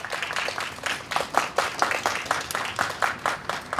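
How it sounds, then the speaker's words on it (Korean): An audience at a concert applauds with a steady, dense patter of clapping hands from a crowd, even in loudness throughout. "큰 박수 부탁드릴게요."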